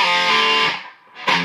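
A distorted electric guitar plays a short burst of a song's main riff, with a sustained chord that dips briefly and then hits again, loud and close.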